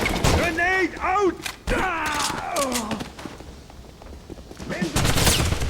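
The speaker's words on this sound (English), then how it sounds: "There's an MG-42 machine gun blocking our path." MG-42 machine gun fire in the Wolfenstein video game, loud bursts of rapid gunfire and thuds mixed with voices shouting and speaking over the battle.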